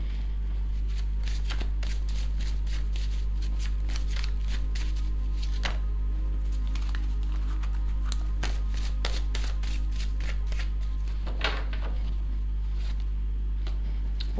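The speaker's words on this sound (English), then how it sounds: "I'm gonna pull a couple of cards from regular tarot." Tarot cards shuffled and pulled from a deck, a dense run of crisp riffling and slapping card sounds close up, steady throughout with no talking.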